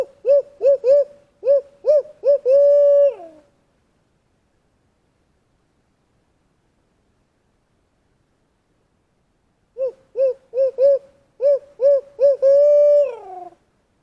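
A person's voice imitates a hoot owl call outdoors to make turkeys gobble, giving two loud rhythmic series of clipped hoots that end in a drawn-out, falling hoo, separated by a long silence.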